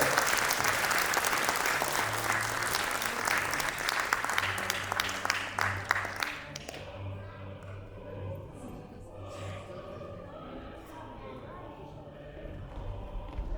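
Applause at a children's award ceremony for a patriotic competition, a dense burst of clapping from the audience that fades out after several seconds, leaving quieter room noise.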